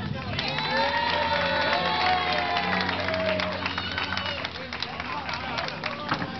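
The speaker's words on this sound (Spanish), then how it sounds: "Aplausos para la moto de Vila." A crowd at a motorcycle meet in a Valencian falla neighbourhood claps and cheers for Vila's motorbike during a popular vote, a dense, steady wash of applause with shouts and whoops from near and far.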